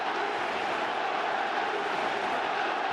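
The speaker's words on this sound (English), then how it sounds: "Listen to this crowd." A packed stadium crowd roars steadily through a Barcelona vs Juventus international friendly football match in 2022, a dense, unbroken wash of noise at constant loudness with no single voice standing out.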